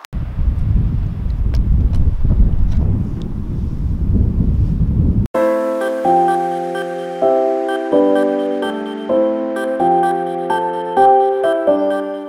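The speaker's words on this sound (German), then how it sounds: "Ist schon leichtwindig, aber Wetter ist noch immer angenehm." Wind gusts outdoors as a low, rumbling buffet across the microphone for about five seconds, then cuts off abruptly and gives way to melodic music that fills the rest.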